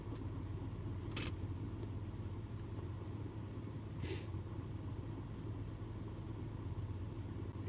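A truck engine idles steadily, a low, even rumble that stays faint and unchanging throughout with no talk over it.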